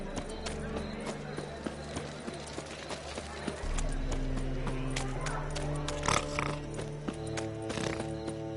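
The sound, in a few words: horse hooves galloping in video game The Witcher 3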